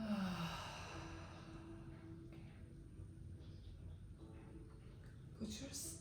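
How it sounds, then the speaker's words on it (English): A slow, deep breath drawn in and let out during a calm, guided relaxation session, a soft airy rush close to the mic over a faint low hum. "Take a deep breath."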